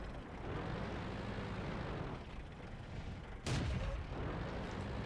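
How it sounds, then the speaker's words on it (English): Artillery fire in World of Tanks lands as one sudden heavy blast cutting through a steady engine rumble, followed by sustained loud roar. "That felt like artillery."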